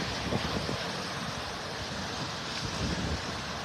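Strong wind on a beach in Naples, Florida buffets the microphone in a constant, dense roar with low gusty rumbles and no voices.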